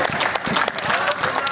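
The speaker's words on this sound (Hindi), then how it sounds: "तुम अपनी तालियों के शोर से आशीष दे देना।" Audience applause at a Hindi poetry recital, a steady patter of many hands clapping throughout, fairly loud and close, with a faint voice underneath.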